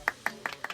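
A few people clap at a casual party on a friend's farm: four or five quick, sharp claps spaced irregularly, fairly faint.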